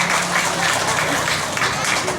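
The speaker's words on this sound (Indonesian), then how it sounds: "Kita beri tepuk tangan untuk adik-adik yang berseragam TPQ ini." Steady applause from an audience at a Quranic school (TPQ) graduation ceremony for children, a dense wash of clapping with a faint tonal hum beneath it.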